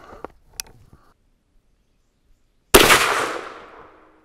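A single loud, close rifle shot from a CVA Hunter 44 Magnum rings out after a few faint knocks and a short silence, its report trailing off over about a second.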